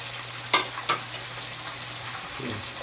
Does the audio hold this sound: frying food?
yes